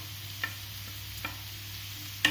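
A tomato going into frying onions in a pan, a low steady sizzle with a couple of light ticks and a sharper clatter at the end.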